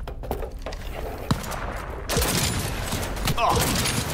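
Gunfire in Cyberpunk 2077 played on PC: sharp shots, then from about halfway a dense, continuous fusillade of rapid bursts that grows louder toward the end.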